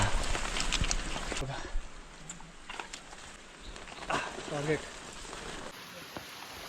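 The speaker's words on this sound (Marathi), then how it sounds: "पाऊस चालू झाला" Steady rain patters on surfaces nearby at an outdoor night campsite, with brief muffled voices and thumps partway through.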